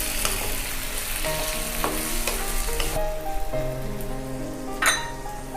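Red pasta sauce being stirred in a pan, a steady sizzle with scraping spoon strokes and soft knocks against the pan, fairly close, over a faint background hum, no speech.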